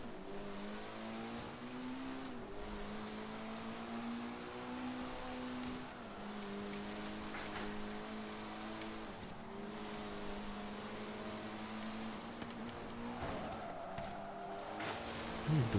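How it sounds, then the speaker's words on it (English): Cars drifting through corners in Forza Horizon 3, engines droning and revving in wavering pitch with tire squeal, rising and falling as the cars slide and accelerate. "So I'm drifting through the corners"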